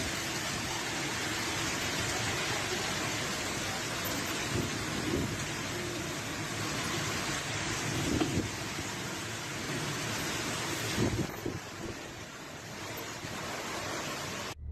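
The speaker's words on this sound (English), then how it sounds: "This heavy downpour was accompanied by strong winds that bent trees." Dense, steady roar of heavy rain with wind rushing throughout, loud and continuous, with a few low rumbling swells.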